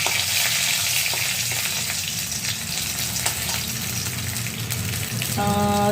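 Cumin seeds and curry leaves sizzle in hot oil for a tempering over leftover rice, a steady, loud crackling hiss that runs throughout with a faint clink near the end.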